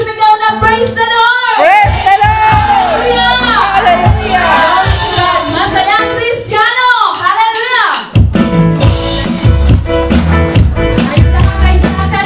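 A church congregation at a joyful Filipino Christian dance service shouts and cheers loudly, then music kicks in strongly near the end.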